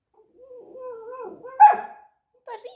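A puppy barking at its own reflection in a mirror lets out a drawn-out whine, then one sharp close bark and a short yip, loud against an otherwise quiet room.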